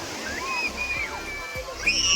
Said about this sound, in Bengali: সমুদ্রের কি আওয়াজ।